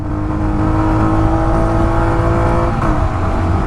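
Royal Enfield Hunter 350 motorcycle in a drag race against a Jawa 42, its engine droning loud and steady with layered harmonics as it pulls through the gears, no voices over it.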